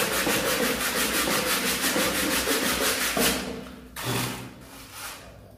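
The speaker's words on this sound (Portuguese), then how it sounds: "vamos pegar uma lixinha, pega um pedaço de madeira, alguma coisa, para você poder dar um acabamento" Sandpaper wrapped on a wooden block rubs back and forth over the cut end of a polystyrene baseboard, a steady rapid scratchy rhythm of close strokes that slows and stops near the end.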